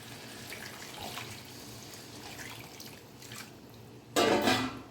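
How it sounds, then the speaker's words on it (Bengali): Gravy liquid poured into a chicken curry made with green chilli paste, a short splashing pour bursting in near the end after a quiet, hissing stretch. "এইবার এতে ঝোল দিয়ে দেবো"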